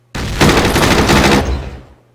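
Rapid automatic gunfire from the war strategy game Battle Academy, set during Operation Market Garden, bursts in suddenly, rattles loudly for about a second and a half, then trails off into a short echoing decay.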